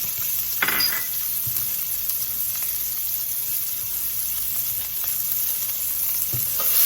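Onions frying in olive oil in a pan beside chicken, a loud, steady close sizzle with occasional scrapes and a light clink as they are stirred, and no speech.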